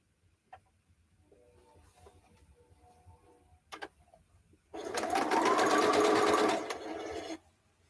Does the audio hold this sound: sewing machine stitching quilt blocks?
yes